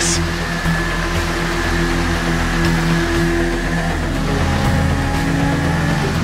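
Racing motorbike in GTA V held at a steady high drone as it revs and slips through mud, loud and continuous throughout with no pauses.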